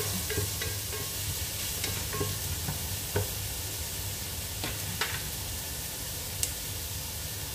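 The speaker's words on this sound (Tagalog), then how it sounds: "Fry lang natin." Food frying in a pan gives off a steady, loud sizzle throughout, with occasional clinks and scrapes of stirring close by and no voices.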